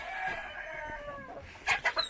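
A caged chicken clucking and crowing, close by and fairly quiet, ending in a few short, sharp squawks.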